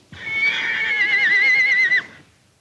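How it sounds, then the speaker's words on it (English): A horse neighs in a single loud, drawn-out whinny lasting about two seconds, close by and heard alone, in a 1943 film. "You know, Blondie, sometimes I think that horse understands everything I say"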